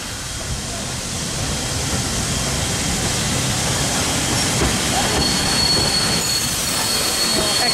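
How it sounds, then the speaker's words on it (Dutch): An old-fashioned steam train rumbles along its rails, loud and close, with steady clattering wheels and a faint high squeal near the end. "Daar is de stoomtrein."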